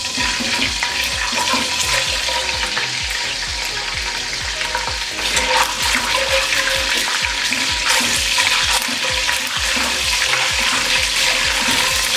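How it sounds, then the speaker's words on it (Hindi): Ginger garlic paste frying in hot oil in a pan, a loud, steady sizzle with stirring scrapes running throughout, no voices. "अब इसमें अदरक लहसुन का पेस्ट शामिल करेंगे और 30 सेकंड के लिए इसे फ्राई कर लेंगे"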